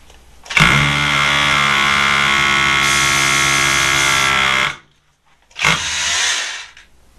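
A Hilti rotary hammer bores a quarter-inch hole, a loud close, steady grinding roar for about four seconds, then a short pause and a second brief burst.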